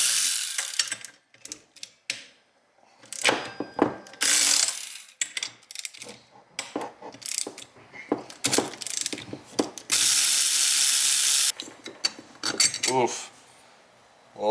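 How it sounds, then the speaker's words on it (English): Metal parts clatter and clink while the cylinder comes off a Yamaha BWS 70cc scooter engine, with repeated ratcheting, tool taps and a few longer bursts of harsh hiss, all close and uneven, with no talking. "pull the cylinder off, take a look at everything"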